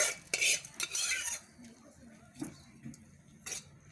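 A spoon stirs and scrapes through mango pulihora rice in a metal pot. The clinks and scraping come in irregular bursts, louder at the start and then quieter and scattered.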